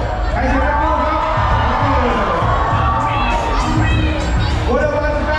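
Pecco fans in a packed crowd at a 2023 Thai MotoGP hero walk shout and cheer in a loud, continuous roar, with sharper yells swelling near the end and a voice talking over it.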